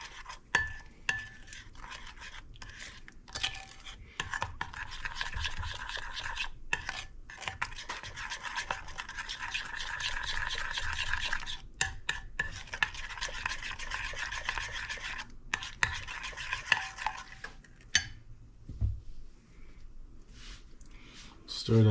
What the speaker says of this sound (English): we'll give this a mix, give this a stir.